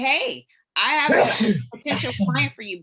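A single sneeze bursts out near the start, followed by a short pause and then a person speaking closely over the remainder, in an office phone-call setting.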